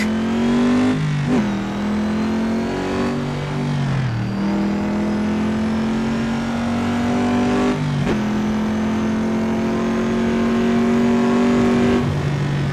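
A Holden A9X's engine lapping Mount Panorama in Assetto Corsa, a steady loud drone rising and falling with throttle, with sharp dips around gear changes near two, four and eight seconds, alone without talk.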